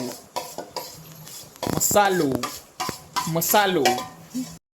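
Mashed potato is stirred into gravy in a home-kitchen pot, with a spoon scraping and clinking against the metal in short bursts and a faint sizzle beneath, close and fairly loud.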